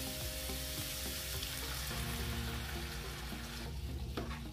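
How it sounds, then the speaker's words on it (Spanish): A cup of white wine poured into a hot pan of stuffed chicken with bay leaf and green olives sets off a steady, close sizzle and bubbling that runs throughout. "También aquí ya le vamos a agregar el vino blanco"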